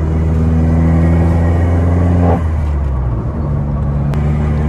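An Opel Corsa OPC with a factory dump valve revs loudly and close by, its engine drone dropping midway as it lets off.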